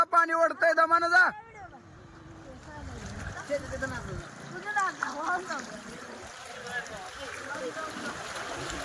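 Heavy-rain floodwater rushes and gurgles in a steady flowing wash, with a loud burst of shouting at first and scattered voices calling over the water afterward.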